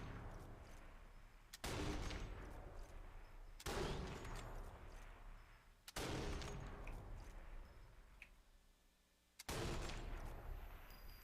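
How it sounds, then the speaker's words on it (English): Gunfire in the video game Avowed: four sharp, heavy blasts spaced a couple of seconds apart, each one trailing off into a long fading rumble, with no talk over them. "Who's shooting?"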